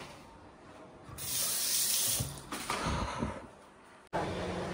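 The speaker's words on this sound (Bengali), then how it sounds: "জুতোটা ধুতে হবে।" A tap runs close by in a home bathroom while shoes are washed, a steady rushing hiss of water that swells and shifts as the flow hits the shoes, then cuts out briefly and starts again.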